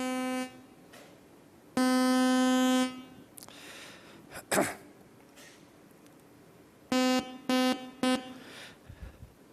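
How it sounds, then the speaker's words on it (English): A buzzy, steady electronic tone sounds in separate bursts: a long held one, then several short stuttering blips with quiet noisy gaps between. "this is one electronic sound from a circuit called an oscillator"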